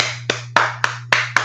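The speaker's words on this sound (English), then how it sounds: "That's more than a golf clap" A handful of separate, sharp hand claps, five spaced beats over a steady low hum, close and fairly loud, each clap ringing briefly before the next.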